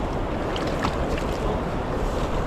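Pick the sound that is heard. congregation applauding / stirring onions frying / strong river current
strong river current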